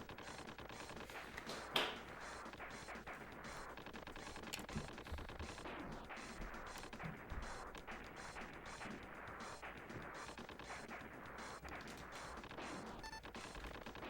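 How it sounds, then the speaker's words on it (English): Dense, continuous volleys of missile and gunfire blasts from the SNES mech shooter X-Zone, a steady rapid crackle of small bursts with one sharper hit early on, loud and unbroken throughout. "So many missiles."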